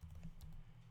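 A few quick keystrokes on a computer keyboard as a network command is entered in a router configuration terminal, close and crisp over a low hum, alone with no voice.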